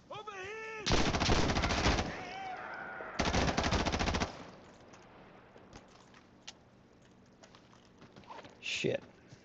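Gunfire in the tactical shooter Insurgency Sandstorm: two loud bursts of rapid automatic shots, followed by quieter scattered clicks and faint game sounds.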